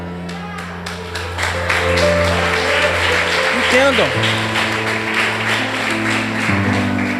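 A church congregation applauds the Lord during a sermon, a broad wash of clapping filling the hall over sustained music tones, with a preacher's voice cutting through briefly.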